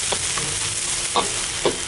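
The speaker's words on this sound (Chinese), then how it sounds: "我们炒香了之后再把这个辣椒给放进去" Fermented black beans and chili peppers stir-fried in a wok, a steady low sizzle with a few soft scraping stirs of the spatula, close and alone with no talking.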